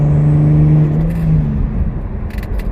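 A turbocharged Lexus IS300 exhaust cruising at night gives a steady, loud low drone that holds its pitch, then settles into a rougher rumble, with no voices.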